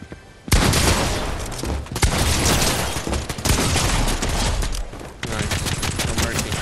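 Sustained rapid gunfire from a video game fills the clip, loud and dense with bursts and booms, pausing briefly near the start and again around five seconds.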